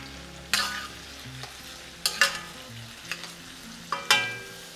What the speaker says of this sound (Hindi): just sliced onions. Give it a nice stir.